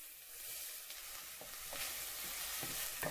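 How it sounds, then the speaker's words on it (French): Onions fried in about a spoonful of oil in a pot make a continuous soft hiss and crackle, quiet and fairly even, with a few faint clinks over the sizzle and no voices. "Je mets environ une cuillère à soupe d'huile. Je mets mes oignons."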